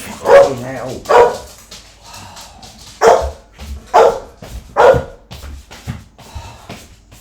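A pet dog barks indoors, a run of about five or six loud, sharp barks with short gaps, some softer yips and whimpers between them.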